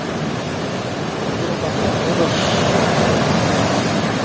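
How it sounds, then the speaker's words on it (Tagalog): Big ocean waves surge and crash over a coastal reef at Ternate, Kaybiang, a loud, dense roar of surf close by that swells slightly midway, with no clear talk. "Grabe alon no."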